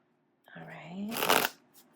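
Tarot cards are shuffled in a short riffle, a brief papery burst of flutter close by, with a voice speaking over the start of it.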